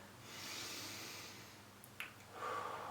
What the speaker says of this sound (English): I want you to breathe in nice and slowly